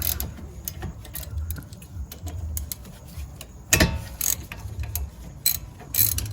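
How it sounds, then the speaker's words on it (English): A 14mm socket on a ratchet breaking loose the brake caliper bolts on a Mazda CX-5 during a brake pad job, with quiet clicking and one sharp metallic crack midway, then more light ratcheting clicks. "Just using the 14mm socket, these two bolts will come off. Just kind of break them loose."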